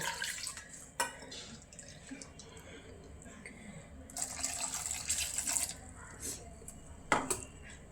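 Water splashes and runs into a metal pot in a few uneven bursts, with clinks of the vessel between pours.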